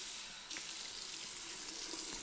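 Water runs steadily from a tap into a sink during washing, a continuous close hiss with a brief dip and soft splashes.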